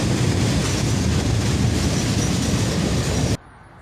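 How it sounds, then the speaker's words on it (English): A CSX southbound freight train rumbles steadily past up close, a loud continuous roll of wheels and cars that cuts off abruptly at the end. "we catch this CSX southbound with a -9 trailing"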